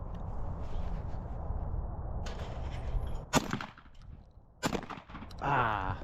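A Stoeger M3020 shotgun fires two loud, sharp blasts about a second apart outdoors, each cracking over steady wind rumble and followed by a brief echo.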